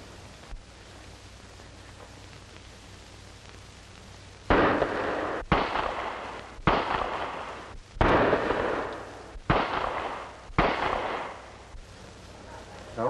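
A revolver fires at a target in a 1940 crime film, six loud sharp shots spaced roughly a second apart, each with a brief ringing decay, after a few seconds of quiet hiss.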